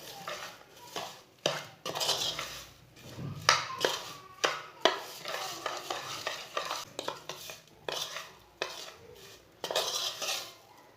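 A spoon stirs turmeric, cumin and ground coriander through a pan, making repeated close scrapes and metallic clinks in an uneven rhythm over a faint sizzle.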